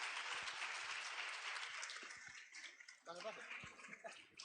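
An audience at a youth conference event applauds, a steady wash of clapping that is faint and distant, thinning toward the end as voices begin.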